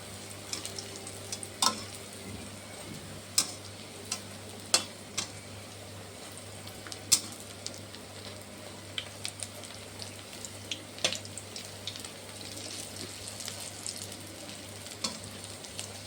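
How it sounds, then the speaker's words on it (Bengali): Lentil fritters (dal bora) fry in hot oil, giving a steady close sizzle that runs throughout, with scattered sharp crackles and pops and a low constant hum underneath; no one speaks. "দেখো এখানে বড়াটা ভাজা হচ্ছে"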